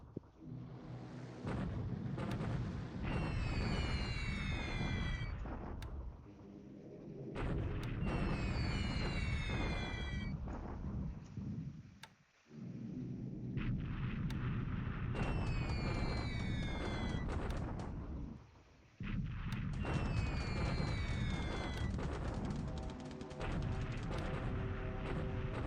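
Bombing runs in the video game War in the Pacific produce long stretches of dense, rumbling explosions and roaring blasts, broken by a few brief lulls, with high whistling sweeps over the din.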